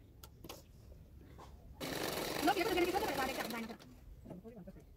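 A sewing machine runs a continuous burst of rapid stitching for about two seconds along a blouse shoulder seam, loud and close, with quieter handling sounds before and after.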